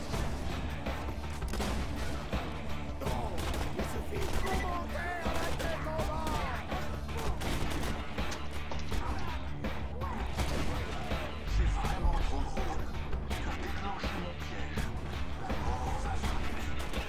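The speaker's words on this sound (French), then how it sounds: "Il les balance deux par deux les grenades." Grenades and gunfire in the video game Borderlands 2, a dense, loud barrage of overlapping blasts and shots with game music throughout and voices talking underneath.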